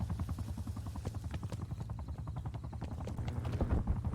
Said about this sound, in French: J'ai un hélico d'attaque ennemi dans le viseur.